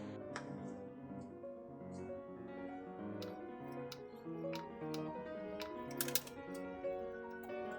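Fingers tap out a sentence on a computer keyboard, scattered quick clicks sitting faintly beneath steady background music.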